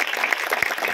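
Dense applause from an audience at a devotional kirtan during a Harinam Saptah gathering in Amla, honoring young mridang drummers; steady clapping fills the whole second with a few sharper individual claps standing out.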